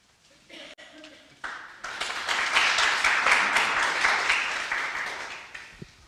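Applause from an audience at the close of a talk, building into a broad, sustained wash of clapping in a hall that holds steady for several seconds before tapering slightly.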